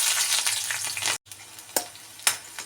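Green chillies sizzling in a tablespoon of hot oil for egg fried rice, a loud bright crackling fry with sharp spits and a brief break as they are stirred, no talk.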